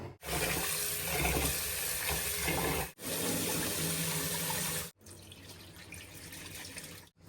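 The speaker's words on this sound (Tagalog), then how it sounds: "Babad natin siya ng malinis na tubig." Tap water gushes steadily into a sink basin to soak something, a loud continuous rush that stops briefly twice, resuming softer after the second pause, with no talking.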